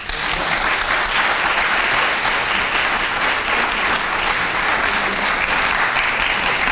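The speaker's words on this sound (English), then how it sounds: "He does deserve a round of applause." Audience applause at a morning show after a speech, dense steady clapping sustained for several seconds with no break.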